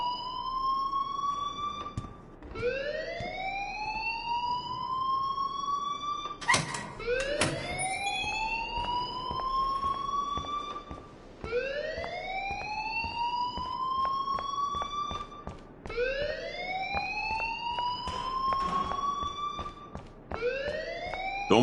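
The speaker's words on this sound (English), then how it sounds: "please turn off that alarm since that's your job" An electronic alarm wails in repeated rising sweeps, each tone climbing then cutting off, cycling steadily and loudly for a long stretch with no talk.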